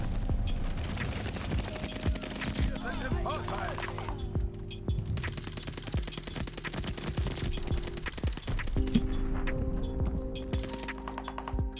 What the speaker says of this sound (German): Der hat gerade voll lange noch geschossen.